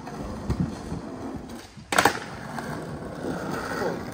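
Skateboard wheels roll steadily over flat ground outdoors, with a sharp clack of the board partway through and the rolling continuing after.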